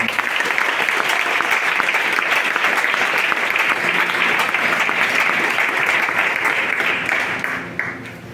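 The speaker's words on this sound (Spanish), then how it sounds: "Le damos un fuerte aplauso al Señor." A church congregation claps loudly and continuously, a thick wash of applause that holds steady before tapering off in the final second.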